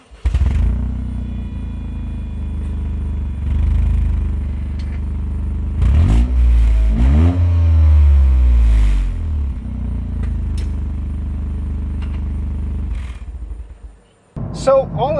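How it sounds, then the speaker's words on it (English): A 2023 Toyota GR Corolla engine cranks and fires up with an ignition start, settling into a loud, steady idle rumble up close with a brief rev flare midway before cutting off near the end. "do an ignition start so you hear what it sounds like"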